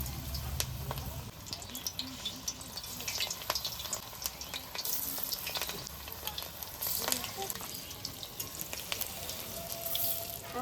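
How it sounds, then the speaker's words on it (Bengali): Fritters made with drumstick flowers frying in hot white oil in a home kitchen, a steady sizzle running throughout, with clinks and faint background noise over it. "এবার তেল গরম হয়ে গেছে, বড়াটা ছেড়ে দিই"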